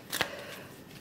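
An oracle card is drawn from a deck: a brief papery shuffle and snap near the start, close and fairly soft, followed by quiet room tone.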